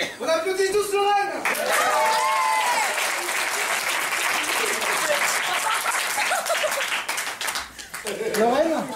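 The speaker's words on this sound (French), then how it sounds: "On applaudit tous Lorraine!" An audience at a 2013 theatre and improvisation festival claps steadily for a performer named Lorraine, with a loud voice calling out over the start and the end of the applause.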